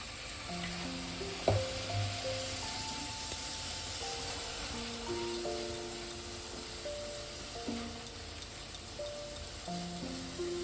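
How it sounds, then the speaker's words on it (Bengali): Masala for a chicken curry frying with a splash of water, a steady low sizzle under light spoon taps and clinks that recur every second or so, close but fairly quiet, with faint background music tones. "একটু জল দেবো, দিয়ে ভালো করে আমি মশলাটা কষিয়ে নেব।"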